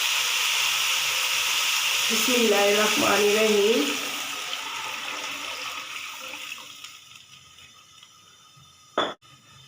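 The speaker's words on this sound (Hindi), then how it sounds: "अब मैं इसके अंदर पानी डाल रही हूँ।" Water poured into a pot of fried spices for vegetable pulao, a loud sizzling hiss that gradually fades, with a brief spoken phrase over it and a short clatter near the end.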